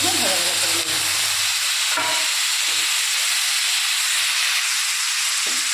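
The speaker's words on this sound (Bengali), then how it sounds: "টমেটোটা একটু দিয়ে ভাজা ভাজা করে নিচ্ছি" A loud, steady sizzling hiss of tomatoes frying in a hot pan with dried red chilli and black cumin continues throughout, with a few faint clinks near the start.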